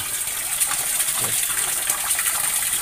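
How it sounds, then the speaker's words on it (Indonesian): Water from a bamboo spout over a fish pond gushes in a steady, full, hissing splash, continuous and fairly close for the whole stretch. "Airnya sangat menggelokok sekali, sangat gede banget."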